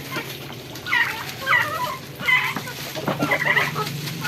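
Chickens cluck in short bursts at close range while eating bread, scattered over a low, steady background murmur.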